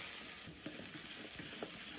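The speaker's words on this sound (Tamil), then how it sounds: "நறுக்கி வச்சுக்கிற வெங்காயத்தை சேர்த்துக்கிறோம்." Chopped onions fry in hot oil with fenugreek seeds in a pan for a traditional Tamil fish curry, giving a continuous soft sizzle with light stirring crackles, heard close up.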